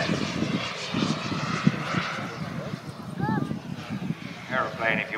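A 21ft-wingspan SZD-54 radio-controlled jet glider makes its first flight at Long Marston, its engine a steady, fairly loud drone with a rising whine near the end, heard under voices and outdoor noise.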